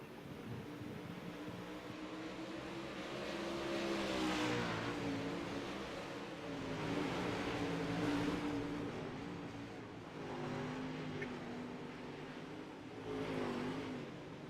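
UMP modified dirt track race cars in a heat race roar past at a distance, engines rising and falling in repeated waves as the pack circles, a steady rumbling drone throughout.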